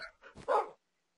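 A dog in a farm-themed video game gives a few short, quiet barks and yips in quick succession, then falls silent.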